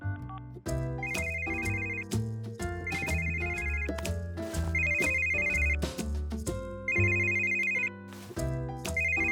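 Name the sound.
cell phone ringing inside a house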